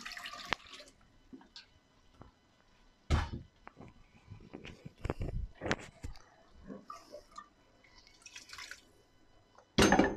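Hot water poured into a pot of green beans and meat as they cook, heard as scattered splashes and pours with clinks and small knocks between them, close by and moderately loud, with quiet gaps.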